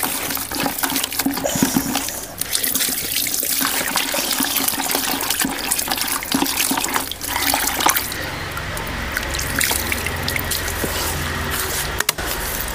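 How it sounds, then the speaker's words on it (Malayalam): Water from a one-litre measure is poured into a clay mixture for stirring, giving a continuous close splashing and trickling that shifts to a thinner, steadier pour partway through. "വൈക്കിളേക്കകത്തോട്ട് വെള്ളം ഒഴിച്ചേ കലക്കാവും."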